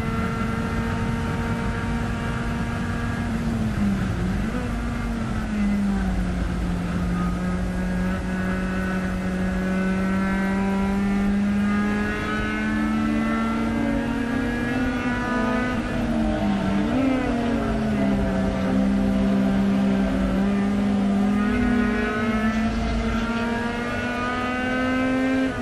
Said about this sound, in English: here comes John Brackey in that red Miata